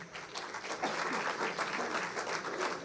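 Audience applause at an intellectual property awards ceremony in New Delhi, with steady clapping from a crowd that sounds moderately distant and fills the whole stretch evenly.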